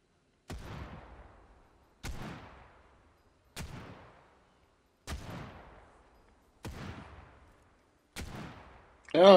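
A slow-firing gun in the video game Final Fantasy 7 First Soldier: six evenly spaced booming shots about every second and a half, each with a decaying tail, followed by a brief burst of game sound at the end.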